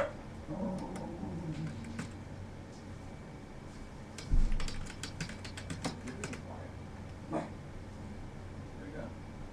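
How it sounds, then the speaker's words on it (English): Typing on a computer keyboard: a quick burst of crisp clicks in the middle, close and fairly soft, with a person talking and faint room noise around it. "Oh, I was typing something real quick."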